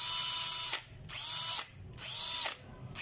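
A DeWalt DCD700 cordless drill driver runs in first gear, whirring in short bursts close by. Three spins rise and stop in quick succession, separated by brief pauses, with no voices.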